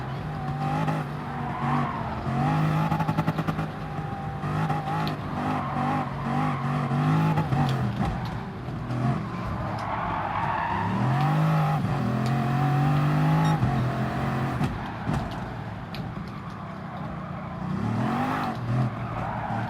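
A Vision Gran Turismo race car in a video game revs and accelerates continuously, its engine note rising and falling through gear changes with brief tire squeals, loud and sustained throughout.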